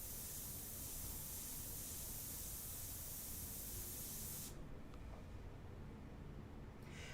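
An airbrush sprays India ink in a steady, soft hiss that runs on evenly, then drops away to quiet for a moment before spraying resumes briefly, with no talking.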